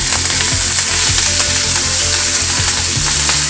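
Garlic and curry leaves fry in hot oil in a pan for South Indian temple-style tamarind rice, giving a loud, dense, continuous sizzle with occasional stirring scrapes.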